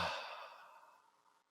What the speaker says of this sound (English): Breathe in and audibly just breathe out.